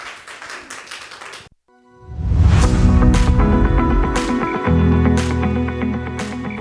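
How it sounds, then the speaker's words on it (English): Live-event audience applause swells after a brief pause into sustained, dense clapping that holds steady and loud with occasional sharper bursts, with no talk over it. "Let's give them a big round of applause, either by waving hands, clapping, whatever."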